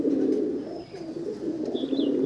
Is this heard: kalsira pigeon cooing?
yes